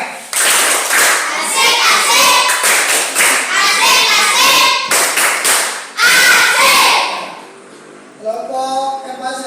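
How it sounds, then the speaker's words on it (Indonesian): A classroom of students performs a rhythmic 'tepuk kasih' clapping chant for group 4, sharp patterned claps in quick bursts mixed with voices chanting along, loud and close, fading to children's chatter at the end. "Mari kita berikan aplaus untuk kelompok 4 dengan memberikan tepuk kasih."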